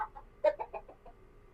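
Chickens offered for sale cluck softly nearby in a short burst of quick, uneven clucks, fairly faint over a low background hum.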